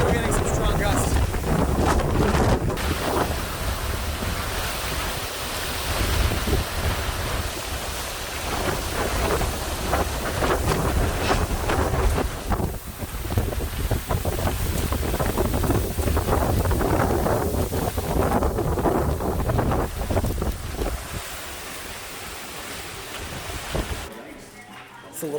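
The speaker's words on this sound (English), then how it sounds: "Still getting some strong gusts." Strong wind from Hurricane Ian in 2022 roars steadily across the microphone in heavy buffeting gusts, loud and sustained, with a brief lull near the end.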